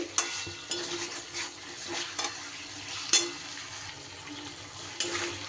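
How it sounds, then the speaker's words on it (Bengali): Partly cooked potatoes are stir-fried with spices in a pan, with soft, repeated scraping strokes of a spatula over a quiet, low sizzle. "আলু দিয়ে খুব ভালো করে মশলার সাথে আবারও কষিয়ে নেব।"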